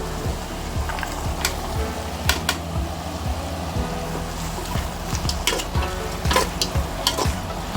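Carrots in a frying spaghetti sauce are stirred in a pan over a loud, steady sizzle, with repeated scraping strokes and occasional clinks up close.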